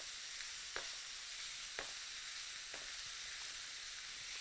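Cabbage and celery stir-fry in a hot pan, giving a steady, fairly faint sizzle with soft occasional clicks of stirring spaced about a second apart, and no voices.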